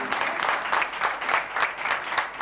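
An audience at a police foundation award ceremony claps steadily in rhythmic waves of applause, moderately loud and continuous for a couple of seconds.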